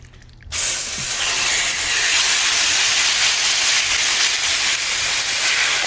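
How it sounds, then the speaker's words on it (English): Chicken hits a hot, smoking stir-fry pan and bursts into a loud, steady sizzle that continues unbroken, close and hissing. "We're gonna start cooking our chicken now."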